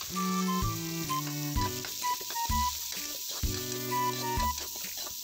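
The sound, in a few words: garlic, onion and meat sizzling while sautéed for pancit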